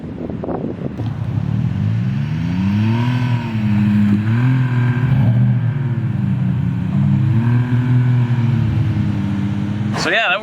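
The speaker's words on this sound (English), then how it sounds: "see if the HD 1500 will pull this sucker out" A Polaris Xpedition HD 1500 side-by-side revs hard and steadily for about ten seconds while pulling a stuck truck free. The engine drone is loud and close and rises and falls in pitch, with wind buffeting the microphone.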